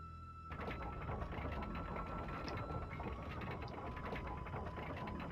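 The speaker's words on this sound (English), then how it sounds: "This elevator must go right down into the island." Elevator machinery descending in Timesplitters Future Perfect, a steady mechanical whirring and ratcheting grind that starts abruptly and continues evenly throughout, with a faint sustained tone beneath and no talk.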